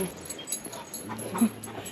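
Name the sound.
guesthouse puppy whimpering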